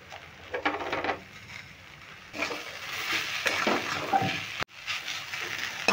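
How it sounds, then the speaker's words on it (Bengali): A spatula scrapes and stirs spiced potato filling with chaat masala in a hot pan, with soft sizzling and intermittent scraping strokes close by, fairly quiet, plus one brief sharp knock. "চাট মশলাটা দিয়ে খুব ভালো করে মিশিয়ে নেব"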